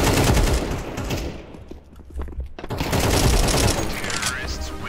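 Vulcan minigun firing in a video game, a dense roaring stream of rapid shots that briefly drops out, then resumes in a long loud burst, close and overwhelming, with voices talking over it.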